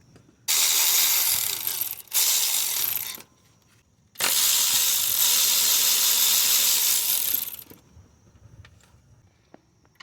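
A ratchet wrench spins loose the bolts of a small bracket near the oil pan of a 2008-2012 Honda Accord 2.4, three loud bursts of rapid clicking separated by short pauses, then quiet metallic taps.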